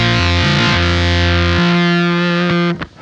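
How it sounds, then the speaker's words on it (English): Sonicake Octaver pedal on electric guitar, a loud distorted single note with a chaotic sub-octave that jumps between pitches, sustaining and then cutting off near the end. "you can hear the sub-octave actually jumps around there even when you're playing 1 note."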